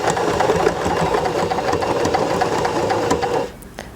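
A sewing machine stitches fabric for a diaper holder, a loud, steady, rapid mechanical whir close by. It runs without a break for about three and a half seconds, then stops abruptly.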